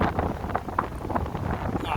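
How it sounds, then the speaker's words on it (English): Loud, steady wind buffeting a microphone while walking the streets of downtown Chicago, a constant rumbling roar with gusty swells throughout and faint street sounds beneath. "we won't hear all this loud wind noise"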